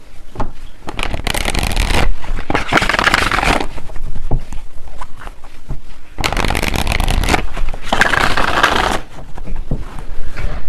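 Tarot cards being shuffled by hand in repeated bursts of crisp riffling and sliding, close and fairly loud, separated by short pauses.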